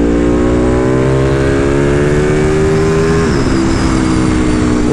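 Sport bike engine revving hard and continuously, a loud, close, raspy roar that holds steady then drops in pitch near the end, with no voices over it.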